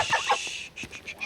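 Chickens (chooks) held before slaughter at a farm, giving a few short, close clucking calls, brief and moderately loud, with faint murmured talk underneath.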